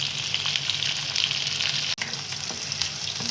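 Sliced onions sizzle in hot oil in a pan while cooking for a potato varuval, a steady close-up frying crackle with a brief stir or scrape midway.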